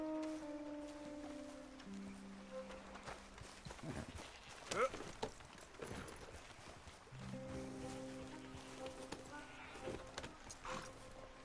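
Horse hooves clip-clop at a walking pace in the western game Red Dead Redemption 2, a soft, irregular patter beneath people talking in a quiet outdoor setting.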